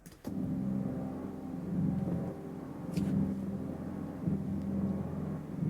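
Nature recordings, bit-reduced and sample-sliced on a modular synth, make a gritty, low rumbling texture that starts abruptly and pulses in choppy segments, with brief crackly bursts on top.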